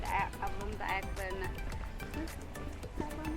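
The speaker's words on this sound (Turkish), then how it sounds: "Evet burada ördek yavruları var." Ducks and ducklings on a lake give a few short, high calls near the start, set against a steady outdoor background at moderate level.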